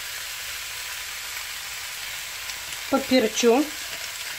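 Half a kilo of salted minced meat sizzles steadily in a frying pan over golden fried onion, a close continuous hiss, with a short spoken remark over it near the end.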